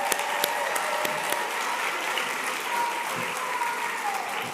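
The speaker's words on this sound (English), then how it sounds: "let's give a round of applause for this staff." An audience at a Family Cafe conference applauds the event staff with steady, dense clapping that fills the room, close and even in loudness with no voices on top.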